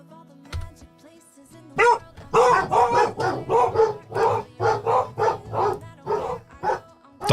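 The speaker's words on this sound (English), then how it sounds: "Dogs are going nuts." Several dogs bark excitedly indoors, a rapid run of loud, close barks in quick rhythm with a faint whimper, over a low hum of background music.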